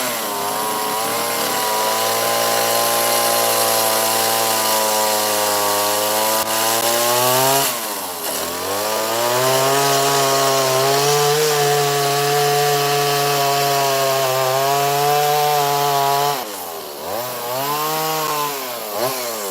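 Chainsaw carving wood with a 16-inch bar and a dull chain, engine droning loudly and steadily with pitch shifts as it bogs into the cut, briefly dipping twice before revving back up, with no talking.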